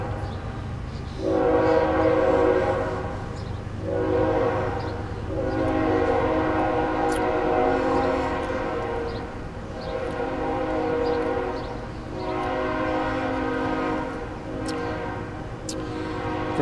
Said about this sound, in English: Forgive the train. I ain't got no control over that.